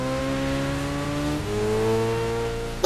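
A cartoon superhero bike engine revs in a loud, steady droning growl that shifts to a higher pitch about halfway through, with no voices over it.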